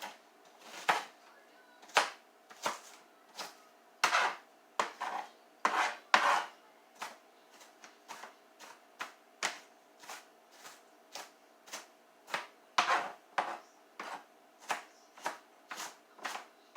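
A knife chops onions on a board with about two dozen sharp, distinct strikes at an uneven, unhurried rhythm, close and clear against quiet.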